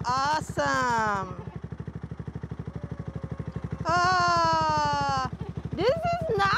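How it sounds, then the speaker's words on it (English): Honda Rebel motorcycle engine idling nearby, a steady rapid low putter running throughout under excited voices that talk over much of it. "That's the engine."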